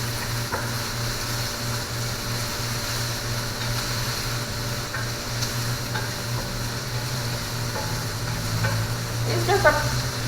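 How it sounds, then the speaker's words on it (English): Onion and tomato sauté in a pan with a steady, even sizzle throughout, a few faint stirring scrapes, and a brief clatter near the end. "So I'm sauteing the onion and the tomato."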